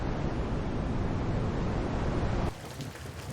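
Rain on a cold, rainy day: a dense, steady hiss of falling water fills the first two and a half seconds, then drops to a softer, thinner patter.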